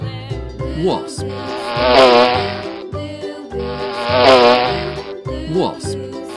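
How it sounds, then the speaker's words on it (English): A wasp buzzes in a toy-insect sound sequence, swelling in two strong drawn-out drones between shorter tonal chirps and musical sounds, close and loud. "Wasp."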